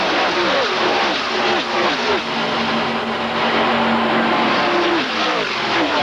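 A pack of Chevrolet Monte Carlo and Ford stock cars at full speed on the steep Talladega banking makes a loud, continuous engine roar with overlapping rising and falling tones.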